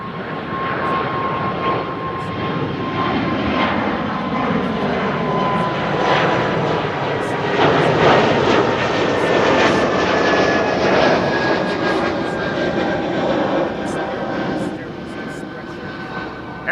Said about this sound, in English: Another BizJet just now taking off from runway 22 over there.